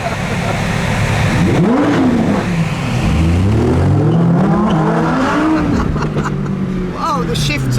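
A Lamborghini launches hard from a standstill, its engine note rising and falling through several gear changes for about eight seconds, loud and close, heard from inside with talk over it.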